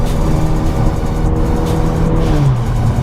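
A Kia car accelerates hard through a 50 mph pull, its engine a loud, steady drone with rising pitch held for the whole stretch, no talking over it.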